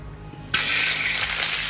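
Snapping turtle meat hits hot oil in a heated wok, and a loud, steady broadband sizzle bursts in abruptly and holds close up.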